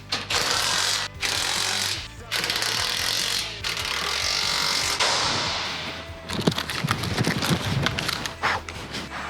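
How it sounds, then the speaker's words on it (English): A 12-volt rattle gun hammers on and off in short ratcheting bursts, tightening bash plate bolts on a Ford Ranger, close by with clanks and handling noise between runs. "Tip of the day, we use the 12-volt rattle gun. It tightens it just enough without stripping the bolts."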